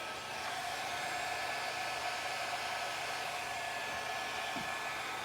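A hair dryer blows a steady, even stream of air over fluid art paint, a continuous close hiss with no voices.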